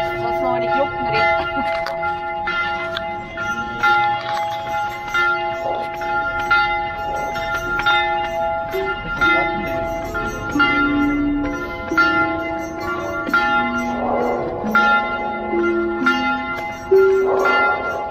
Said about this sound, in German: Jetzt lassen wir mal die Glocken reden.